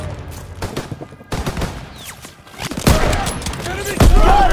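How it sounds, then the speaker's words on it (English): Battle gunfire in the World War II shooter Call of Duty: WWII, with rapid machine-gun bursts and single shots layered close and loud. Heavier blasts swell toward the end, and voices shout over the firing. "Suppressive fire! Keep firing!"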